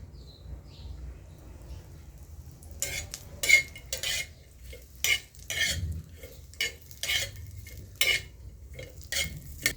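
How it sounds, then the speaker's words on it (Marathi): Grated coconut roasting in a little oil in a pan while a spoon stirs it, giving faint sizzling under repeated scraping strokes that come in uneven bursts, close and fairly quiet. "आता आपण खोबरे भाजून घेऊ। थोडं तेल टाकू।"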